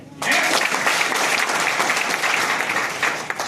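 Steady applause from an audience at a spoken talk, a dense, continuous clapping that starts abruptly and holds at full strength for several seconds with no voices over it.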